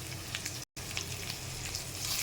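Onion, garlic and banana frying together in a pan for a mustard hilsa dish, a steady soft sizzle with light crackles, broken by a split-second dropout, quiet and alone without speech.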